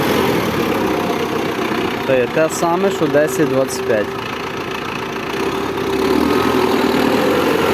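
A 105-horsepower tractor engine idles throughout at a constant low rumble while someone talks over it briefly in the middle.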